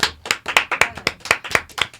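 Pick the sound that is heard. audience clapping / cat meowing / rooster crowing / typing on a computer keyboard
audience clapping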